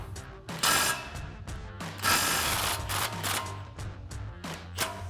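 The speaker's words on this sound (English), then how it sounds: "So we're gonna grab our impact with a 27mm socket and go on our head and take this bolt out." An impact wrench with a 27mm socket removes a strut bolt on a Ford Bronco rear suspension. It lets out loud, close bursts of rapid hammering, several short rattling runs separated by brief pauses, with no talk.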